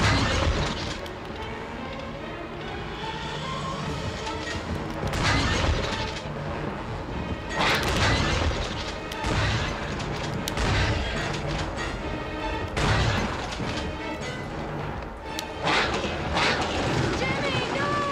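Gunfire and booming blasts from the Peter Jackson's King Kong video game ring out in loud repeated bursts over a dense game soundscape, while a voice talks over the action.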